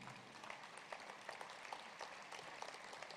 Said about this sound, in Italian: meritato applauso